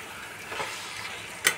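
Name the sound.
fried potatoes and rice sizzling while stirred in pan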